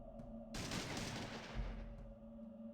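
A burst of gunfire in the video game Fallout 1, one loud, dense volley lasting under two seconds that then fades, with no talk over it.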